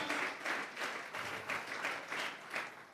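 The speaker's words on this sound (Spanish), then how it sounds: "Dele fuerte esas palmas al Dios de la gloria." A church congregation claps hands together in steady, rhythmic bursts, a dense roomful of palms beating in time at moderate loudness with no speech over it.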